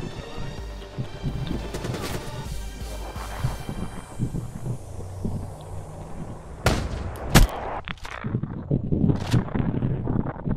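Mobile artillery firing in Black Ops 3 team deathmatch, a rapid rattle of shots and blasts through the clip with several loud, sharp cracks near the end.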